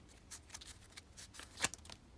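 Yu-Gi-Oh! cards are shuffled in several quiet papery bursts, soft rhythmic riffles close up with one sharper snap near the end and no voices.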